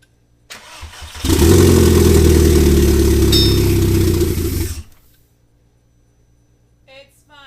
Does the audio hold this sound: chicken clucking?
no